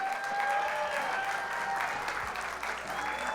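Audience applause at an education awards ceremony in San Diego, a moderate, continuous wash of clapping heard from a distance with faint ringing tones mixed in.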